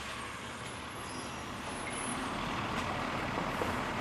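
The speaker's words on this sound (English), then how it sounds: "Garbage truck. I have never seen how they pick it up." A garbage truck outside picking up bins, its engine droning steadily and slowly growing louder over a few seconds, heard from a short distance indoors.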